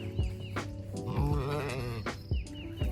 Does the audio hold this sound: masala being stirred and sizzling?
no